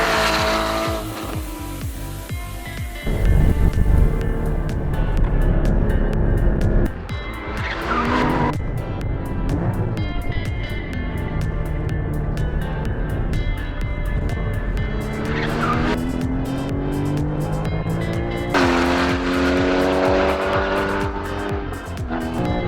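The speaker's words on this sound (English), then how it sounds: "we're going to do a couple of familiarisation laps in the road car first." Porsche Cayman GT4 road car lapping a race track, engine loud and close, revving up and down through gear changes with tyre squeal in the corners, running continuously with no talk.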